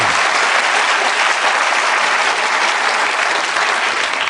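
Studio audience applause on a British panel comedy show, a dense, steady wash of clapping that holds at full loudness for the whole stretch with no voices over it.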